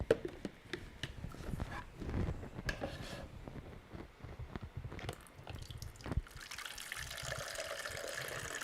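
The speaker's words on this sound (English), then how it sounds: "Let's strain it out in here for now" Homemade zero-alcohol margarita mix being strained into a container, with irregular splashing, trickling and dripping liquid mixed with clattering knocks, ending in a steadier pouring hiss.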